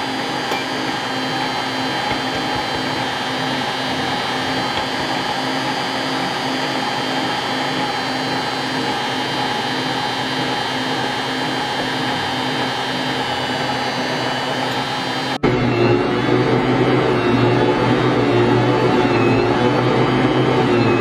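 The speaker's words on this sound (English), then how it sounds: "I'm going to let my mixer run for 10 minutes with the dough hook to work the dough." A stand mixer with a dough hook kneads sweet bread dough, its motor giving a continuous steady whirring hum at close range that shifts abruptly in tone partway through and keeps running without pause.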